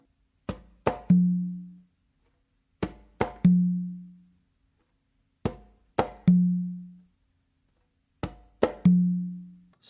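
Conga drum pattern with bass strokes, palm slaps and a strongly accented open tone on the tumba, played as four repeated phrases of quick strikes ending in a ringing low tone, close and clear with silence between.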